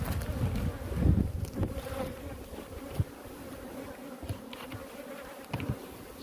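Honey bees buzz steadily around a hive colony being prepared for winter, a close, continuous drone with a few louder passes near the listener and occasional handling knocks.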